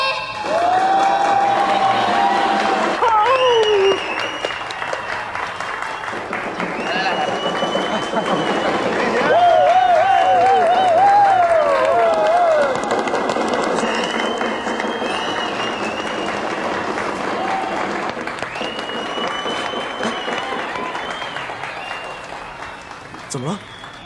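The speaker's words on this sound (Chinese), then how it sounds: "获得联合国教科文组织颁发的文化大使称号的丁雪老师，掌声有请。" A large audience applauds and cheers for a celebrity singer introduced at a staged gala, loud dense clapping sustained throughout, with background music and brief voices mixed in.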